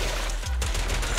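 Rapid bursts of gunfire in the action game Zenless Zone Zero, loud and close with a sharp crack near the midpoint, packed into about a second of combat.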